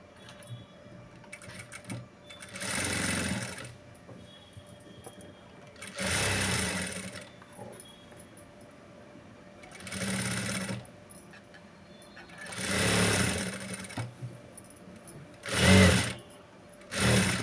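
A sewing machine stitches the round neck piping of a blouse in five or six short, close bursts of rapid whirring separated by quiet pauses, the last bursts quicker and sharper.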